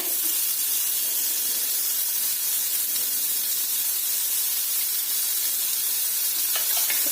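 Finely chopped carrots sauté in a pan over a low gas flame, giving a steady, even sizzle with soft hissing that runs unbroken and fairly close throughout, with no voices.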